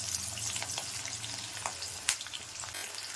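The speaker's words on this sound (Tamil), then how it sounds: "பாருங்கள், பூண்டெல்லாம் நல்லா வதங்கிட்டு பாருங்கள், வெங்காயம் வதங்கிடுச்சு" Garlic and small shallot onions sauté in hot oil in a pan for a Tamil okra and peanut curry, giving a steady close sizzle with occasional stirring scrapes and one sharp clack.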